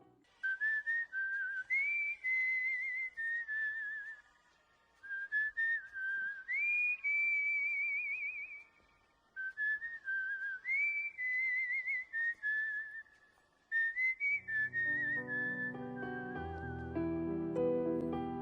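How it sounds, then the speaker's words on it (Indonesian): A person whistles a bright, bouncy tune in repeated phrases, clear and close, with brief pauses between them before a lower tone joins near the end. "Rahul bersiul dengan ciri khasnya"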